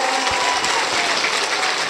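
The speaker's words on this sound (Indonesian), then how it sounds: "Saya minta tepuk tangan dulu dong buat panitianya yang luar biasa." Audience at an Islamic religious gathering in Banyumas applauds the event organizers, a dense, loud, continuous wash of clapping with no talk over it.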